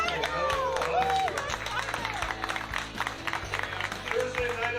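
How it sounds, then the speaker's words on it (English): An audience in a bar applauds with dense, sustained clapping and crowd noise, while voices talk over it. "Give yourself a round of applause."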